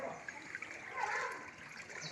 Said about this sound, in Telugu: నీళ్ళు బాగా నడుతున్నాయి